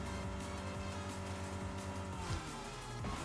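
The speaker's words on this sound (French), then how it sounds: "Dérapage." A car skidding in the Fortnite video game, with a steady engine drone and tire squeal that shifts pitch partway through, loud and continuous with no talk.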